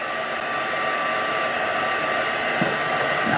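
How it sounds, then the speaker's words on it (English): Steady, loud whooshing roar of a heat tool blowing over ink splats in card making, continuous airflow hum held close throughout without pauses or speech. "I'm going to just dry the ink splats as well."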